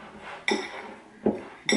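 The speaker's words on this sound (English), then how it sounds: "You're just going to mix the brown sugar and the cinnamon all together" A utensil strikes a bowl three times while brown sugar and cinnamon are mixed, each a bright, close clink spaced unevenly apart, no talking.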